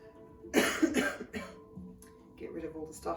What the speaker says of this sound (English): And then a little cough.